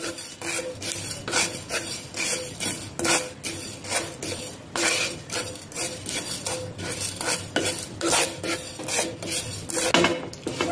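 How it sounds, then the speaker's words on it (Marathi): Whole spices dry-roasting in a pan over a low flame, stirred with a utensil that scrapes and rasps rhythmically against the metal in quick, repeated strokes, close and clear with no talking. "आता आपल्याला हे मसाले मंद गॅसवर भाजून घ्यायचे आहे।"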